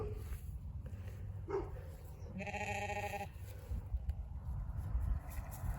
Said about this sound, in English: Is that the neighbor dog?